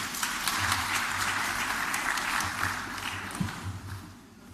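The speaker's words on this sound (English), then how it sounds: "A round of applause for them." A crowd applauds newly sworn-in graduates at the 19th convocation ceremony of Pan-Atlantic University. The dense, sustained clapping from a large audience fills the hall, then gradually tapers off at the end.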